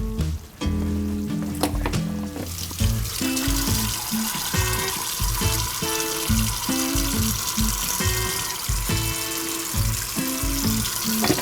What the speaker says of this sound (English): I need to drain this and rinse it with cold water